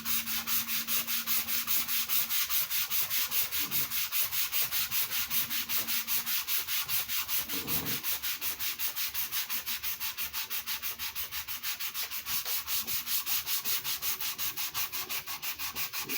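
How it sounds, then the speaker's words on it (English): A sanding block rubs back and forth across a painted Les Paul guitar body, making a steady, rhythmic rasping scrape that repeats evenly throughout, close and alone with no talk. "I'm going to sand it again."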